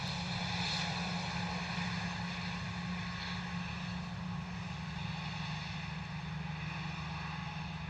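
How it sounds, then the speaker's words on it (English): A Gulfstream G650 jet at a foggy London Luton Airport gives off a steady, distant engine roar that holds at an even, low level throughout, with no voices. "Lovely Gulfstream G650"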